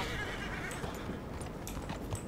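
A horse in the open-world western game Red Dead Redemption 2 gives a faint whinny over a steady bed of hoof clip-clop and ambient noise, with no talk.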